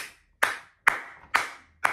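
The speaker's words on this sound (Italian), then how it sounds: "permettetemi di applaudire Rafael Leao" Four sharp, loud hand claps spaced evenly about half a second apart, each ringing briefly, with no voices.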